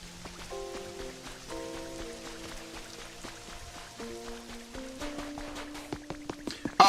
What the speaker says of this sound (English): Go check that cave before this rain stops falling